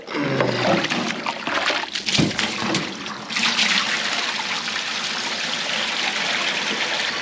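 Water overflowing from a trough or container on a sheep farm runs as a steady rushing, trickling flow, loud and close, with a brief splashy surge early on before settling into a continuous pour.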